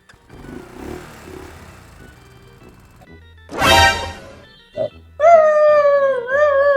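Dogs bark, yip and howl nearby in loud bursts with pauses between them, ending in a long wavering howl.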